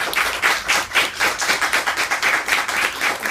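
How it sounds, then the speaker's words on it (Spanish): Audience applause at a talk on philosophy and architecture: a few seconds of steady, fairly close clapping with a loose pulsing rhythm and no speech over it. "Un aplauso."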